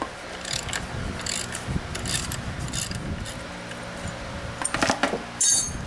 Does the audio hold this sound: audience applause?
no